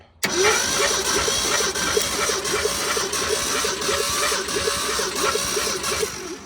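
A 1971 Ford engine, spark plugs removed, cranks over via a jumped starter solenoid with a fast, even chugging rhythm, continuous and fairly close, without catching and running.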